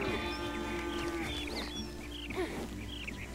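Cattle mooing in the Red Dead Redemption video game, a few low drawn-out lowing calls close by over steady ambient game sound, with faint bird chirps.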